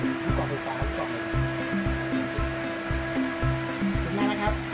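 A loud ventilation fan humming in a second-hand goods warehouse in Thailand, a steady whooshing drone with a recurring rhythmic thump, near and continuous.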